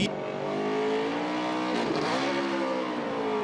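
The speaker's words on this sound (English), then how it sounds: "Brad Keselowski burning down the house." A 2020 NASCAR Cup Series race car doing a victory-lane burnout roars loud and close in one continuous high-revving blast, its pitch dipping briefly midway before climbing again.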